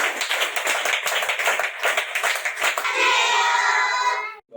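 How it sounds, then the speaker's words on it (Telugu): A group of people claps loudly at a donation gathering, with a dense run of sharp, close hand claps for about three seconds before it fades into a softer smeared wash and stops. "అన్నీ వాళ్ళకి క్లాప్ కొట్టండి గట్టిగా."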